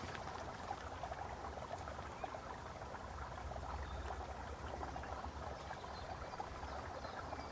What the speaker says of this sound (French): les glouglous du ruisseau dans les ronces là.